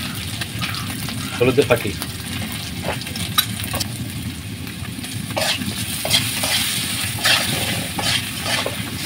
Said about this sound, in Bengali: দেখতে পাচ্ছেন এখন আলু ভাজা হচ্ছে, গোল আলু, ছোট আলু মাছ রান্নার জন্য।